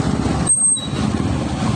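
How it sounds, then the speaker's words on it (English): City bus passing right alongside on a flooded street, its engine roar up close with a sharp hiss of air brakes releasing partway through, then the heavy rumble continuing. "I got a bus right up against me."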